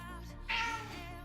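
A pet cat gives one drawn-out meow, close by and fairly soft, over a steady background hum.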